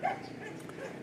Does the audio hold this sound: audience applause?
no